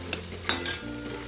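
Eggs go into a hot pan of spiced bhurji with green chilli, giving a few quick close clinks and taps followed by soft frying sizzle in a short burst.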